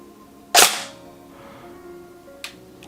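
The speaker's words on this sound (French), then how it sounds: "Il y a un trigger reset, on l'entend." A Tokyo Marui M4 SOPMOD Next Gen recoil shock airsoft rifle fires one sharp, loud snapping shot, then a quieter short click from the trigger reset about two seconds later, with no talk.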